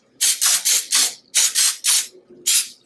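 Baking spray with flour and butter flavor is sprayed from an aerosol can into a baking pan in several loud, short hissing bursts, about seven in quick succession, with no talking.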